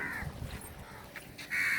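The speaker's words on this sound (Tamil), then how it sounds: "இங்க பாத்தீங்களா காக்கா இருக்கு," Several crows caw loudly nearby, harsh repeated calls in short bursts with a brief gap before a final strong caw.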